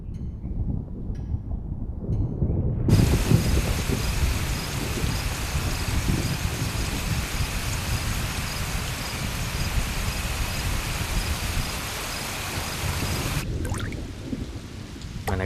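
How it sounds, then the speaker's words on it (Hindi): Steady heavy rain pours with a deep thunderstorm rumble underneath, loud and continuous, with quieter softer patches at the start and end. "आज बारिश होगी। ये तब तक नहीं रुकेगी"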